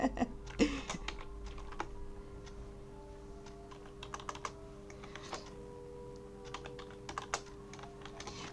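Control, Shift and Enter keys pressed on a computer keyboard, with scattered sharp key clicks over a quiet hum in a room.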